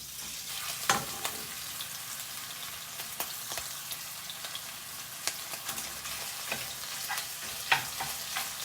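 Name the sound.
sausage frying in a pan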